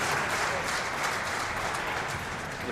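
A crowd at a four-wall handball world championship match applauds in a steady, dense wash of clapping that holds throughout, moderately loud.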